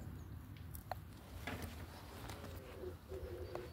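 Soft low cooing of a pigeon in the background, faint against steady outdoor hiss, with a few small clicks and rustles.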